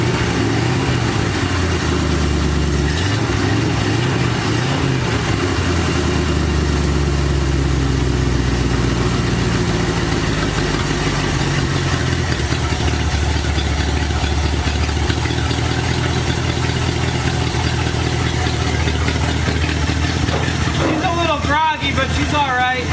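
A 1973 Dodge truck engine runs rough at idle right after its first start, a loud, close, uneven rumble with rising revs early on, while people talk nearby.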